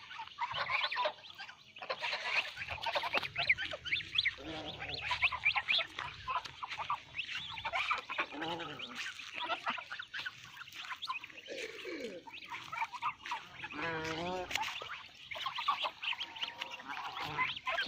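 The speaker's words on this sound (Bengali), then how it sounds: "কিউট কিউট কতগুলো হাঁস।" A flock of ducks or geese honking and quacking in a busy, overlapping chorus, fairly faint and continuous, with occasional louder calls standing out.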